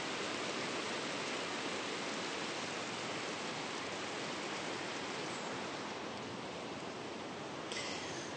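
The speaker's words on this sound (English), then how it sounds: "This waterfall over here is so cool." Steady broadband roar of a waterfall in a dense Icelandic forest with large trees, continuous and fairly close, with no talking.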